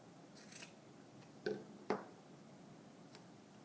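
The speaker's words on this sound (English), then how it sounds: "Take your scissors." A few crisp snips of scissors, spaced irregularly, close and fairly quiet in an otherwise still room.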